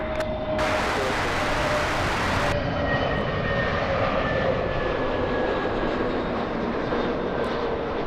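Jet airliner engines roar steadily at Los Angeles LAX airport, a loud, continuous broadband rumble that persists throughout, with a faint high whine on top and no talking.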